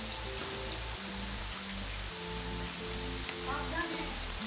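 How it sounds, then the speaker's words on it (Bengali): Heavy monsoon downpour on an empty street makes a steady, moderate wash of rain noise throughout, partly covered by low droning tones. "ঝমঝমিয়ে মুষলধারে শুরু হলো, এতেই আমি বেরোলাম"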